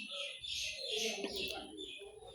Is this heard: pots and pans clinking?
no